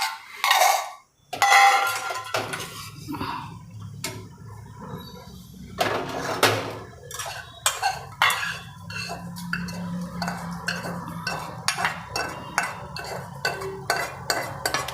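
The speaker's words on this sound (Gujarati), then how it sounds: "હવે એને એક બાઉલમાં કાઢી લઈશું આપણે" Roasted semolina is scraped out of a pan into a bowl, with repeated metallic clinks and scrapes of a spoon against cookware, sharp and close with short pauses between strokes.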